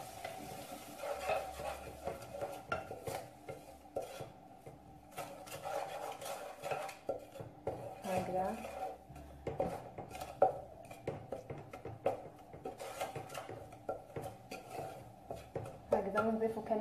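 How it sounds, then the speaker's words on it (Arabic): Potatoes seasoned with black pepper being stirred and mixed in a pan, with scraping utensil and clinking cookware sounds, light sizzling and a voice talking over the work. "نخلطهم"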